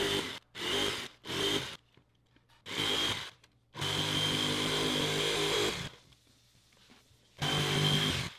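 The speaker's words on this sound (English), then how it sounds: "then we'll use a jigsaw to cut our pattern around to cut that vent out." A jigsaw cuts a vent opening through a vinyl floor plank, coming in loud, close bursts of buzzing motor noise, several short runs followed by one longer sustained cut, separated by pauses.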